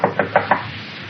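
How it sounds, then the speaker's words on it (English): Knuckles rap on a door four times in quick, even succession, close and dry, with a brief quiet tail after the last knock. "Rap on the door, Olson."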